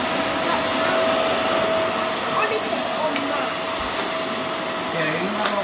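A vacuum cleaner runs on a hard floor with a steady, loud broadband whir and a sustained whine, continuous from start to finish with only small fluctuations and no speech over it.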